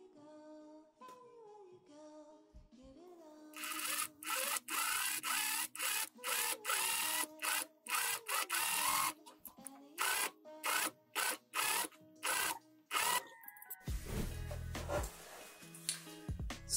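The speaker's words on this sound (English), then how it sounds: "I'm gonna sew right here closely to the edge and then also on the bottom." A sewing machine stitches a quilted jacket close to its edge in a series of short, sharp bursts of needle chatter with brief pauses between them, ending in a low rumbling handling noise.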